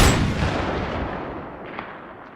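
A single heavy sniper gunshot booms close and loud, its long rumbling echo decaying over about two seconds with no talk.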